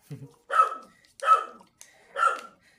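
Dogs bark three times in a spaced series, fairly close and loud, with short silent gaps between each bark.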